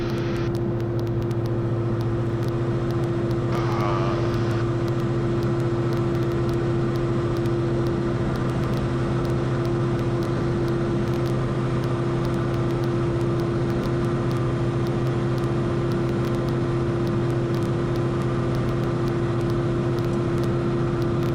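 A small training airplane's engine drones at full power during a go-around, a loud, constant, heavily tonal hum heard from inside the cockpit for over twenty seconds with no talking.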